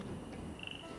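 A frog croak during a frog rain in the game Two Point Campus, a faint short warble amid quiet ambient background with no speech.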